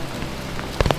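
Hailstones strike an iron bridge in Ohio's Cuyahoga Valley during a storm, a steady patter of rain-like hits swelling near the end into a few louder, sharper clatters close by.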